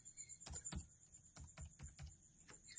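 Someone types a phone number on a computer keyboard while logging into a trading app on a PC. Soft, close keystrokes come in small clusters with short pauses between them, faint and without talk.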